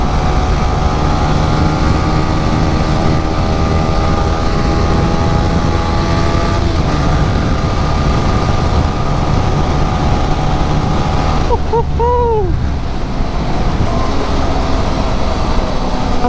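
Yamaha R15 V3 motorcycle fitted with an R1M exhaust kit, its engine holding a steady, loud droning rumble throughout, with a brief warble partway through and no talking.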